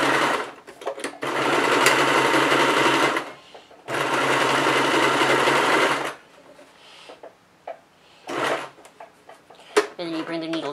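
A sewing machine stitches around the fabric of a dice bag in two long, loud, steady runs, stopping for a few seconds between them and afterward, when quieter handling noises and a person's talk follow.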